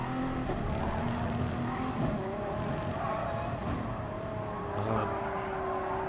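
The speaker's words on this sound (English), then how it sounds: "But these cars are sliding around." Race cars slide and roar around a track in Gran Turismo Sport during an online league race, with loud, continuous engine drone and shifting pitch throughout, no talking.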